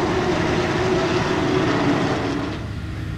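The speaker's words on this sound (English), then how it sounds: "Listen to them racing around the track." Race cars circle a track, a sustained engine roar that holds strong for most of the stretch before easing off slightly near the end, with no voices.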